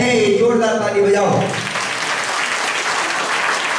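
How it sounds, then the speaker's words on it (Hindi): A congregation applauds in a church right after a voice, the clapping dense and loud at first, then easing into a steady patter. "जोरदार ताली बजाओ।"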